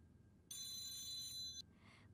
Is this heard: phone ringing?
yes